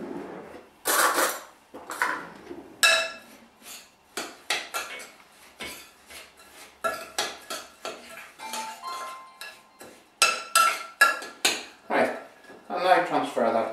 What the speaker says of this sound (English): you just add that to your crushed biscuits and give it a good mix through